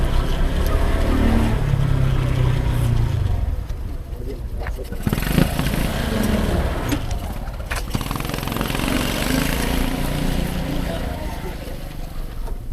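A motorcycle rides ahead on the road in Indonesia, its engine droning steadily at moderate distance. The pitch rises and falls with throttle changes, mixed with other traffic noise and people talking.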